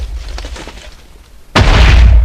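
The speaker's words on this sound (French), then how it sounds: "En allumant une TNT après une autre, comme ceci, elle va s'envoler" A video-game TNT block goes off in Minecraft with one sudden loud blast that booms and rumbles, after a quieter stretch of low background hiss.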